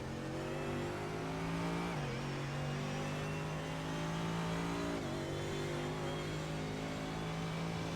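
Race car engine in the iRacing sim game holds a steady loud drone with two brief dips where revs drop and climb again, continuous throughout with no talk.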